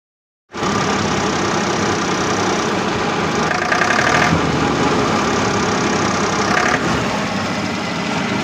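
A Massey Ferguson 1035 DI tractor engine idles steadily and loudly after a sudden start, with a constant low chugging drone and no voices.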